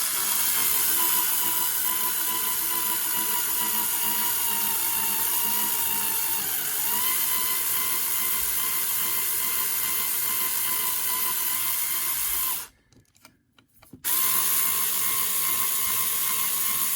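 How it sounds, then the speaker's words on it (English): A small electric screwdriver drives screws into a Tamiya TT-02 Type SR RC car chassis during steering assembly, a steady high whine running for several seconds, cutting out briefly, then resuming. "put these screws through."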